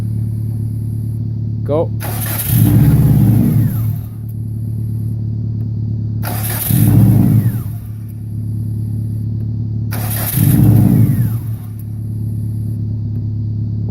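A car fitted with a new turbo fires up for the first time after the install, with three loud cranking bursts over a steady low idle hum, and a voice speaks briefly near the start.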